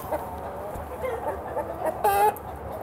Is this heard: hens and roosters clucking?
yes